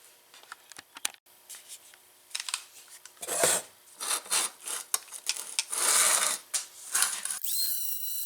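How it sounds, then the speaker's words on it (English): Sandpaper rubbing rust off a metal part on a Harley-Davidson golf cart before JB Weld goes on, heard as irregular close scratchy rasping strokes in bursts, with quiet pauses between them. "Get that sanded down, sand off some of this rust so the JB weld will stick."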